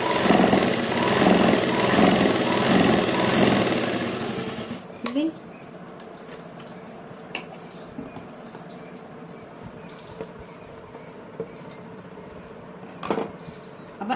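Sewing machine stitching a sleeve onto a kameez: a steady, close whirring run for about five seconds that then stops, leaving a quiet room with scattered small clicks and handling noises.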